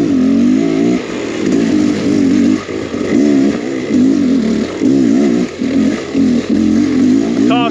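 An enduro dirt bike engine roars loudly and close as the rider downshifts into second gear. Revs rise and dip repeatedly with a gritty mid-pitched drone and a brief rattle.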